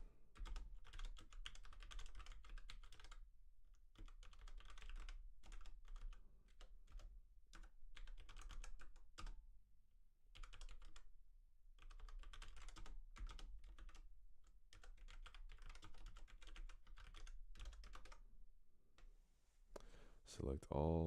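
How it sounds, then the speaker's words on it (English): Steady typing on a computer keyboard while entering a SQL query, with clustered keystrokes broken by short pauses, quiet and close. "Guess it wants me to just type it again."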